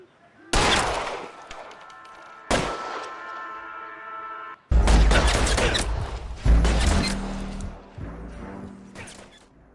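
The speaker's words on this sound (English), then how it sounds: "All units, shots fired." Loud, close gunshots during a police confrontation: single sharp blasts with ringing decay, then a denser volley of heavy shots in quick succession, with a low rumble underneath.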